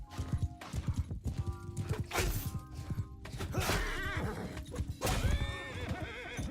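Horses in the combat game Mount & Blade II: Bannerlord neigh and whinny loudly over the hollow clip-clop of galloping hooves and heavy thuds, with several calls overlapping up close.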